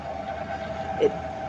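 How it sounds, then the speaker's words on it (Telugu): A kitchen grinder grinds plain urad dal with nothing else added, giving a steady, even motor hum with a faint whine and a brief louder swell near the end. "ఏమి వేయకుండా ఓన్లీ ఒక్క మినప్పప్పు మాత్రమే వేసి గ్రైండ్ చేసుకుంటున్నాం"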